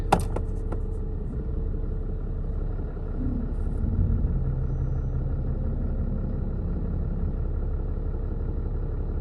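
A 2016 Ram 3500 pickup with an Aisin transmission idles in reverse gear right after a transmission fluid flush, giving a steady, close low engine rumble with a brief click at the start and no talk.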